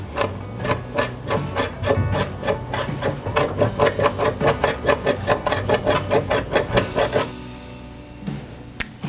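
A mezzaluna rocks rapidly through fresh sage leaves on a cutting board, making a steady series of close, crisp chopping thuds for about seven seconds before stopping.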